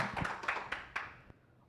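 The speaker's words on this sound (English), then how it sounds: "Please give applause for him." A small symposium audience gives a short round of sparse, scattered hand claps at close range, then the clapping quickly fades out.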